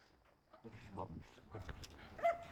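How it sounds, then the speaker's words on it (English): An excited German Shepherd whines and yips in short bursts at close range, with soft rustling and movement around it. "I've never met a German Shepherd that wasn't excited."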